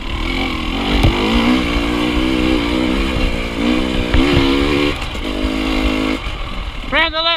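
A 300 dirt motorcycle rides a forest trail at The Pines, its engine note rising and falling through repeated revs and gear changes up close, with a fast rising whine at the end and voices briefly present.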